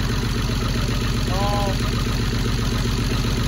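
An Oliver 1850 tractor engine idling, its low rhythmic chug steady and loud throughout with no breaks.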